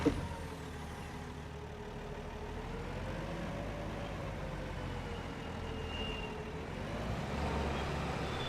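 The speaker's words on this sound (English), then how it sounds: "sounds like there's a bit of a turbo whine in there" A tractor engine in Farming Simulator 25 runs at a steady low drone, with a thin turbo whine rising and falling above the rumble, constant and close with no talk.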